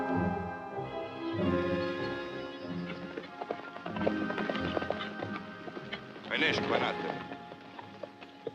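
Horse hooves clip-clop at a walking pace beneath a swelling orchestral music score, with a voice speaking briefly.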